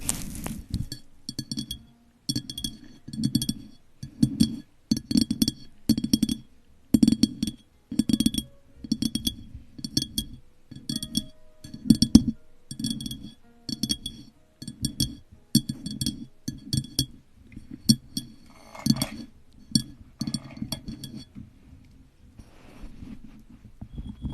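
A glass is tapped in quiet, close-up ASMR style, giving bright little clinks in a fairly regular rhythm, often in quick pairs, with a few pauses and a softer, sparser stretch near the end.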